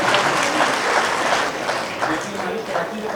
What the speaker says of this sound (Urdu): تالیوں کی گونج کم سنائی دے رہی ہے.